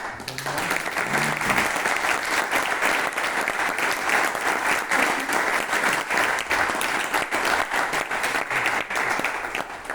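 An audience claps steadily at the close of a lecture on rocky planet formation, a dense, even wash of applause that holds for the whole stretch, with a brief voice under it at the start.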